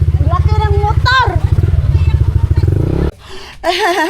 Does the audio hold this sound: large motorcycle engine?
yes